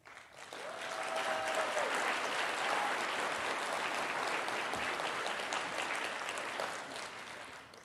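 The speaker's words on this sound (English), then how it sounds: "Let us give them the applause and appreciation" An audience at an Institute of Technology graduation and pinning ceremony gives a sustained round of applause, swelling in quickly, holding dense and even for several seconds, then tapering off, with a brief whistle early on.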